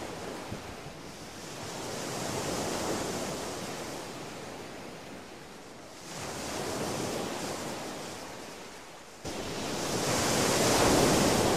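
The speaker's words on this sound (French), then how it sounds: "admire les attaques de l'Atlantique contre les rochers." Atlantic ocean waves crash against rocks in broad, roaring surges, three swelling washes of surf with wind, loud and close, no voices.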